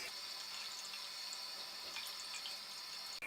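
Tap water runs steadily into a sink while makeup brushes are rinsed under it, a continuous even hiss with no talking.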